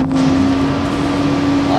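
Steady engine drone and road rumble fill the inside of a moving city bus in downtown Harvey, Illinois, a constant loud hum with a few muffled voices behind it.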